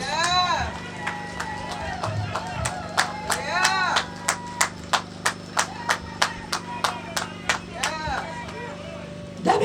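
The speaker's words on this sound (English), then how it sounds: "I want you to stand and applaud Debbie Charles." An audience applauds at an outdoor opening ceremony for a hard court, scattered claps building into a rhythmic beat of loud, evenly spaced claps, with a voice heard early on.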